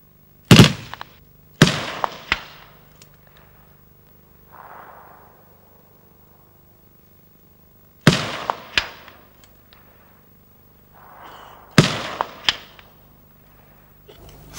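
An M58 machine gun firing 7.62mm armour-piercing rounds at an armoured personnel carrier, sharp loud single shots with metallic impact cracks, spaced in two groups with quiet gaps and faint echoing rumble between.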